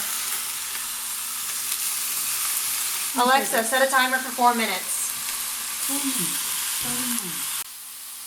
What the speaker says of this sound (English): We have a good sizzle going on.